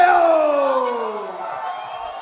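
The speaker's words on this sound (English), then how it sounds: "I'll wait for the crowd to die down a bit." A crowd at the XFC 60 cage fight introduction roars loudly, with a single whooping voice gliding downward over the sustained cheer as it slowly eases off.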